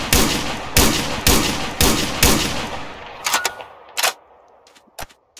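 An AA12 shotgun fires in Minecraft, with five evenly spaced loud blasts followed by scattered fainter shots and clicks.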